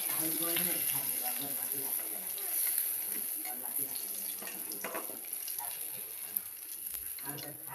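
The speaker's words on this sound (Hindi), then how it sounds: "देखिए मछली मैंने फ्राई कर रही हूँ, कैसे फ्राई हुआ है।" Fish frying in a pan in a home kitchen, giving a steady, fairly faint hiss and crackle throughout, with a voice speaking over it.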